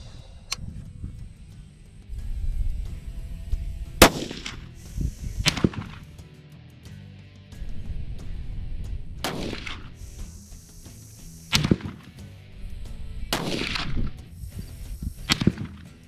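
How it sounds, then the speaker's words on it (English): A rifle fired down range outdoors at a hunting setup, with a few sharp, loud cracks spaced several seconds apart, each trailing off into a rumbling echo over faint background noise. "We're gonna send one down range, put our ignition cartridge in, put our ears on, and let's see what this one does."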